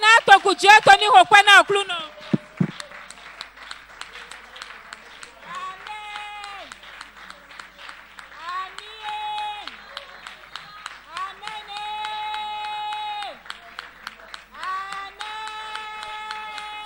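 A church congregation claps and cheers in praise during a prophetic declarations service, a dense applause that runs under loud amplified singing and speech from the pastor.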